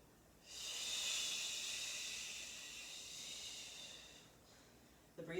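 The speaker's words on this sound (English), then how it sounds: "The breathing helps, trust me." Heavy exhaled breathing during Pilates mat work, a long steady breathy hiss lasting several seconds close to the microphone, ending with a brief sharper breath.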